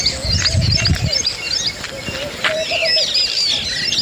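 Birds chirping and calling outdoors on a village farm in monsoon season, with soft pigeon cooing and a brief low rumble near the start; several calls overlap at moderate distance.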